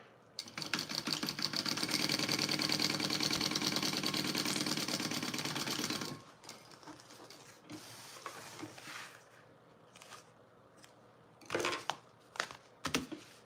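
A sewing machine stitches a fabric bag pocket in a steady, dense mechanical run for about six seconds, then stops, leaving soft scattered handling and fabric noises.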